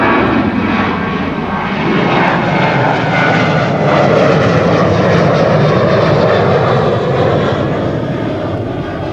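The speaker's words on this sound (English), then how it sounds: "Shamrock flight 605 to Dublin, Ireland is already moving." Shamrock flight 605, an A321neo jet bound for Dublin, rolls at Amsterdam Schiphol with a steady, loud, broadband engine roar that swells slightly and holds throughout, with no talk.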